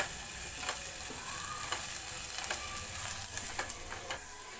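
Vegetables frying in a pan for a homemade corn soup, a steady sizzle with intermittent scrapes and clicks of a spatula stirring, moderately quiet and uninterrupted by talk.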